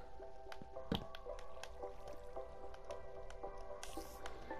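Water flowing and dripping in the Minecraft survival game on PS4: steady faint trickling with repeated sharp drip clicks and one louder splashy drop near the start, alone without talk.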